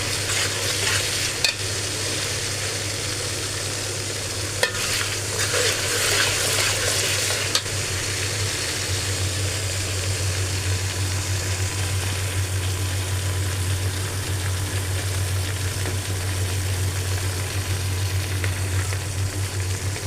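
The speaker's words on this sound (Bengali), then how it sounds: "ভাজা মশলাটা যত ভাজা হবে অত রান্নার স্বাদটা ততটা ভালো হবে" Spiced masala frying steadily in a pan while being stirred for a vegetable and meat bhuna khichuri, with a continuous sizzle and a few scraping knocks of the spoon near the start.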